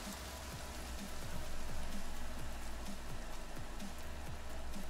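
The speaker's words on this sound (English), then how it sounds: "Oh, listen to that rain," Steady rain pours down in the survival game The Forest, a dense, continuous hiss with scattered drop impacts that swells slightly and holds at a moderate level with no talking.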